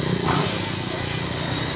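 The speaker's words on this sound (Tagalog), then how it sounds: "one click, kumandar po agad yung motor ng ating katropa" A motorcycle engine catches on one click and settles into a steady, rough idle, close and fairly loud, with a brief voice near the start.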